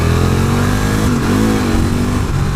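A 2012 Can-Am Spyder RS-S three-wheeled roadster engine pulls steadily under acceleration, a loud continuous drone whose pitch climbs, dips briefly and rises again, heard close with no talking.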